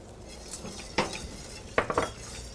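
A whisk clinking against a pan as nutmeg is stirred into a sauce, a few sharp metallic taps and scrapes over a faint sizzle, close and brief.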